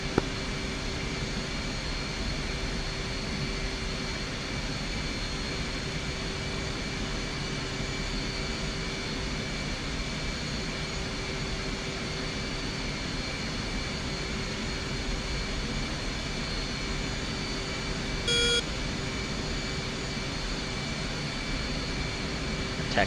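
A jet aircraft on final approach to land on a runway in DCS World, a steady, even roar with a constant engine whine holding at the same level throughout, with no voices over it.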